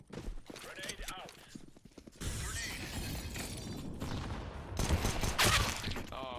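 Gunfire in a team-based first-person shooter match rings out in sharp bursts among other game effects, loud and close, with players talking over the action.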